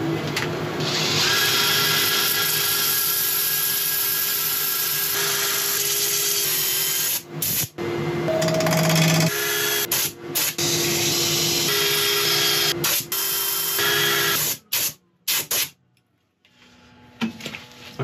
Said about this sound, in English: I'll set up for sanding, I'll let you watch a bit of it